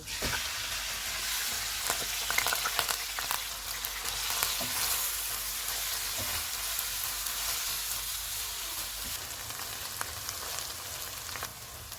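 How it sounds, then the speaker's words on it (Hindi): Onions sizzle and crackle steadily in hot oil while being golden-fried for a mutton masala, with occasional stirring scrapes, close and continuous throughout. "3 प्याज डालेंगे, इनको गोल्डन फ्राई करेंगे।"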